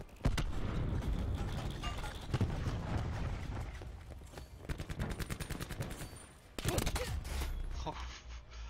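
A cluster grenade goes off in a shooter video game, bursting into rapid rattling volleys of small blasts that come in several loud waves, mixed with mechanical clicks.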